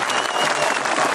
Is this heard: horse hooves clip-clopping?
no